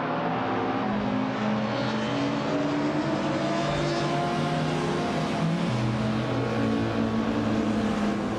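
A 1998 Mitsubishi 3000GT VR-4 races in a video game, its engine droning loud and steady with shifting harmonic pitch as it revs, the tone dipping and climbing around gear changes, and other cars faintly mixed in.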